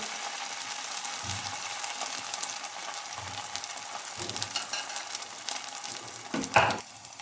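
Eggs fry in a pan with a slice of bread, giving a soft, steady sizzle close by. Occasional utensil scrapes and clinks break through, including a sharper clatter near the end.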